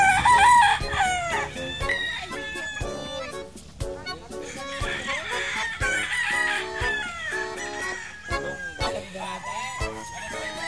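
Chickens and roosters at a poultry farm crow repeatedly and cluck in a busy, close chorus, with sharp knocks and a voice talking intermittently among them.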